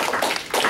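Audience members at a Green Party of Ohio state meeting clap briefly, a few close, sharp claps forming a short uneven burst.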